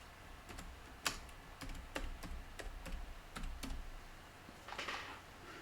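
Typing on a computer keyboard, with a steady run of quiet, close key clicks at an irregular pace and one sharper keystroke standing out over a faint background hum.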